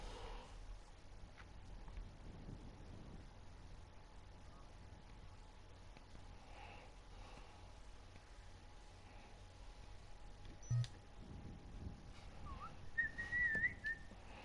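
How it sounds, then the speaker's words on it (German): A short, faint whistled tune rises near the end over steady background hiss while playing GTA 5 Online on a PS4. "Oh, nicht pfeifen, Alter."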